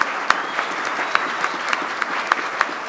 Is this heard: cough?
no